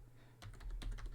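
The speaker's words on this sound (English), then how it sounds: "mini laptop and is typing" Rapid, close typing on a mini laptop (netbook) keyboard, a quick run of light key clicks that grows busier after a brief, quieter start.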